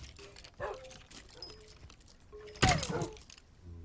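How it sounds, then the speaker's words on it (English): A wolf in Minecraft gives brief high whimpers and yips, scattered through a quiet game scene, with a sharper louder burst near the end. "I'm still hearing that wolf whimpering"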